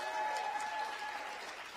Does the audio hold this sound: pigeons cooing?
no